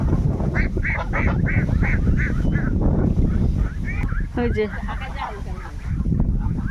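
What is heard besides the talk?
domestic geese honking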